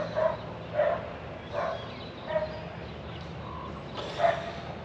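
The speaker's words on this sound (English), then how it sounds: "Shut up, dog." A dog barks five or six times in short, spaced yelps at moderate distance over steady background noise, in a home garage during a Ford F100 body repair.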